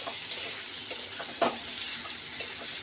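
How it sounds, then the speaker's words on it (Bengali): Spice mix of chilli powder and cumin powder frying in a pan for fish curry, a steady soft sizzle broken by a few sharp stirring scrapes, close and alone. "তো এবার মশলাটাকে আমি ভালো করে কষে নেব।"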